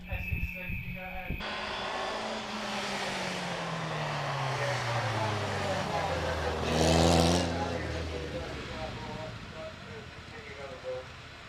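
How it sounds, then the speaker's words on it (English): A Lotus Saloon race car launches at the Prescott hill climb, its engine revving hard and climbing through gears as it pulls away, loud at first and then fading into the distance, with a commentator talking over it. "Off the line goes Stephen Akers in the Lotus Saloon"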